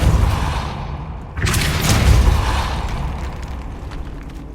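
A Depulso spell fires in Hogwarts Legacy with a sudden blast partway through, a boomy thump and wash of noise over a dark tomb ambience that then lingers and slowly fades.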